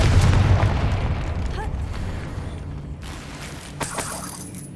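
Confringo spell explosions in Hogwarts Legacy gameplay, heard as a loud, booming burst with a rumbling low-end blast that slowly fades, then a smaller pop near the end.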